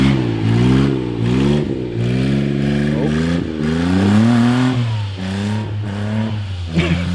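A kei truck's small engine revs and surges with rising and falling pitch as it drives figure eights in the snow, loud and close throughout, with voices talking over it.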